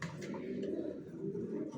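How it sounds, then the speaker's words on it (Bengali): Low, throaty cooing of young racing pigeons, several birds murmuring continuously at close range against a faint background hum. "এখানে যে কবুতরগুলো দেখাচ্ছি"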